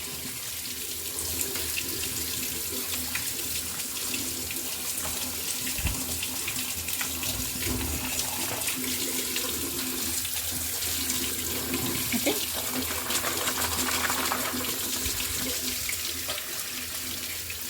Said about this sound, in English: now we are going to switch on the tap and we will wash it very nicely again like this